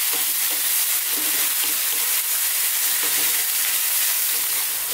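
Carrots and lamb for an Indian mutton carrot masala fry in a pan over high heat, giving a loud, steady sizzle with stirring scrapes throughout and no talk.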